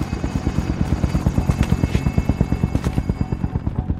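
A helicopter taking off carrying a tank, its rotor thumping in a loud, fast, even rhythm with a whining engine tone, steady throughout, close and without any talking.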